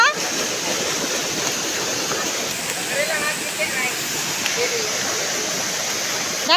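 Steady broadband roar of water pouring down at Honan Falls, constant and full throughout, with faint voices under the rush.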